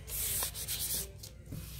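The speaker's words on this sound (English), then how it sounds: "finish off sanding" Sandpaper rubbing back and forth across a painted DIY wooden sign, close and steady, with brief pauses between strokes and no voices.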